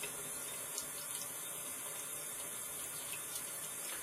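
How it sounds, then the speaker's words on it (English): Water steadily running and seeping through a homemade Berkey-style gravity water filter, a constant close hiss of flowing water with no speech. "See the water start to seep out from the top, and then it goes slowly to the bottom."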